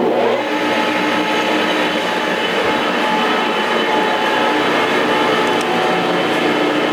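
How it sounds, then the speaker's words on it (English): A lathe motor runs on power from a phase converter, making a loud, steady mechanical roar and hum that holds even throughout with no talk. "So now I'm gonna go and turn on the lathe."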